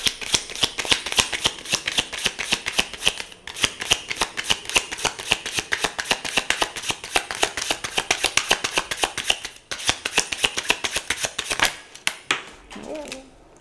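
A deck of tarot cards is riffle-shuffled over and over in a rapid, dense clatter of flicking cards, close up, with short pauses between bursts and a brief voice at the very end.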